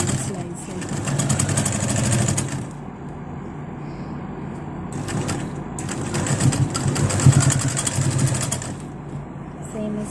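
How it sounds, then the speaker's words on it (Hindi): A sewing machine stitches a blouse neckline in two long runs of fast, even whirring close by, separated by a quieter pause, with someone talking over it. "अब मैं इसको इस तरीके से अटैच कर दूँगी सिलाई से"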